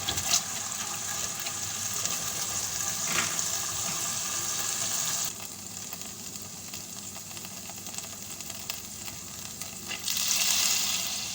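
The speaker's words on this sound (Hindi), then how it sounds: "तो भी मैं अच्छे से सौते कर लूँगी।" Chicken sautéing with chili sauce in a pan gives a steady close sizzle and frying hiss, with occasional stirring scrapes and a brief surge of sizzling near the end.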